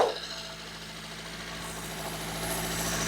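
A used Maruti WagonR's engine idles with a steady, even mid-pitched hum and light vibration, heard close with the engine bay open.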